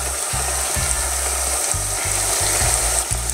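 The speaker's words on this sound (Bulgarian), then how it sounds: "в тиган да се пържат" Steady hiss of batter-coated eggplant slices frying in hot oil, with low intermittent clunks from a pan being handled, no voices.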